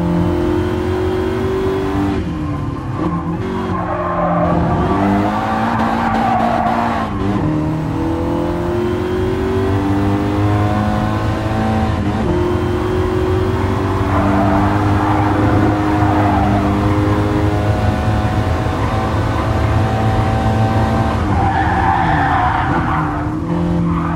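A 2015 Ford Focus ST on the Nürburgring Nordschleife in Gran Turismo Sport, its engine droning loudly and steadily with rising and falling revs, gear changes and repeated tyre squeal through corners.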